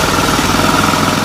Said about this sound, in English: The car has a two-rotor Wankel engine.